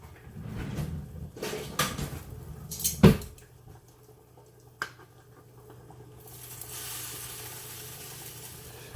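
Sausages frying in a pan, a soft, steady sizzle that grows into a constant hiss toward the end, broken earlier by a few sharp knocks and clatters of cookware.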